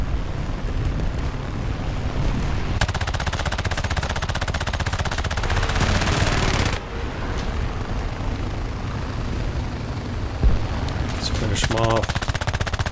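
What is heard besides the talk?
anti-aircraft gunfire in video game War Thunder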